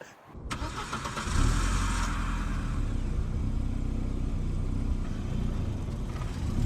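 A small tracked tank-style vehicle engine starts and runs on flat ground, a sustained near low rumble steady to the end with some speech around it.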